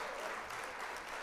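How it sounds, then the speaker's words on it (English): A short, quiet burst of applause sound effect played on a livestream during a Gundam model-building workshop, a steady wash of clapping throughout with no talking. "we're gonna hit the old applause there"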